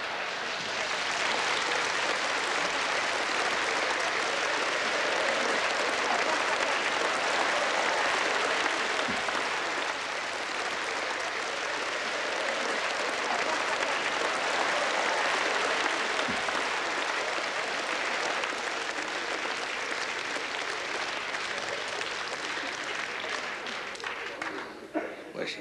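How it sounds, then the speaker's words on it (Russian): Audience applause fills a hall at a comedy parody performance, loud and steady for about twenty-five seconds with no break, a dense sustained wash of clapping from a large crowd. "Аплодисменты. Аплодисменты."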